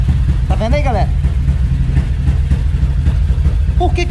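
A 237cc motorcycle fitted with a Koso 32mm carburetor idles steadily, its low throbbing engine running close under someone talking, with a short rising tone early on.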